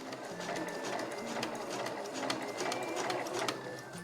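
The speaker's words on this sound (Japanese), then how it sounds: "で返し縫いはせずにそのまままっすぐ縫っていきます。" A sewing machine stitches straight along a small curved zipper pouch made from Marimekko fabric scraps. The needle chatters in a continuous close, even run with no talking.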